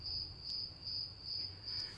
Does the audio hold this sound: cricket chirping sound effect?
yes